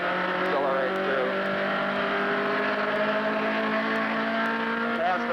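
A Nissan Datsun 1600 / 510 BRE race car accelerating on track, its engine a continuous, close, loud drone that holds steady and climbs slightly in pitch throughout.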